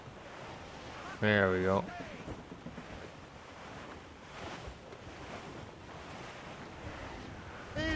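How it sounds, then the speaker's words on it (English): Gusting wind and rolling surf from a rough squall at sea in a sailing video game roar steadily throughout, with a brief spoken phrase near the start rising over the broadband storm noise. "A living gale is after us, thank God we're onward bound."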